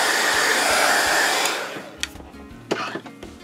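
A hair dryer blows steadily and loudly for about one and a half seconds to dry painted book pages, then cuts off, leaving a few faint knocks and handling noises.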